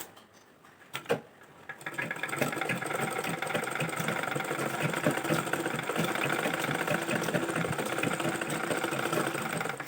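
A sewing machine runs steadily, stitching a fabric frill with a continuous mechanical whir after a few brief clicks at the start, loud and close with no talking.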